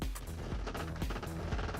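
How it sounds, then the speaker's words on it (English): A quick burst of several gunshots in the video game Necrobarista, sharp cracks in rapid succession, fairly faint and heard alone. "several gunshots rang out from the back of the room"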